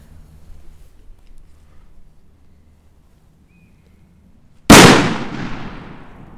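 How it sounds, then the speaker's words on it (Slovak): A Monster 8 firecracker goes off outdoors in one sharp, very loud bang after several seconds of faint background quiet, its echo decaying over about a second and a half. "Ideme si dať petardu Monster 8"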